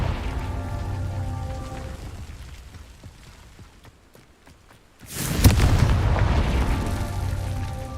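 A Confringo fire spell erupts in Hogwarts Legacy with a sudden loud, dense blast that swells and roars, following a quieter stretch of crackles and game ambience; no one speaks.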